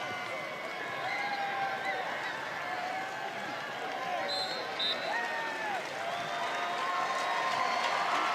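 Stadium crowd at a Bowling Green homecoming football game cheering after the win, a dense, steady roar that stays loud and unbroken throughout.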